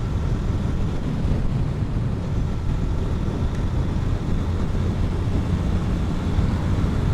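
Steady, loud wind roar buffets the microphone while riding a Yamaha FZS 150cc motorcycle on a Chattogram road, a continuous low rumble with no breaks across the whole stretch.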